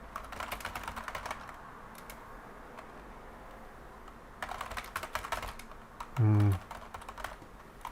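Bursts of rapid keyboard typing from a Linux developer's computer during a late-night session, clicking in two clusters with a quieter gap between and a brief low thump near the end.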